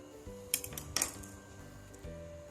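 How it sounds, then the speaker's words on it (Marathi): Peeled boiled eggs halved with a knife, heard as a few soft clicks and taps of the blade against a plate or board, quiet and close, with a faint steady hum behind. "आता या अंड्याचे चाकूने दोन भाग करून घेऊया"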